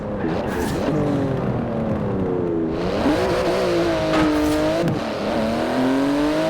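A 3.8-litre twin-turbo flat-six sports car with 700 horsepower and carbon-fibre bodywork, driven in Forza Horizon 4, revs loudly and continuously, its engine pitch dipping and climbing as it shifts and accelerates.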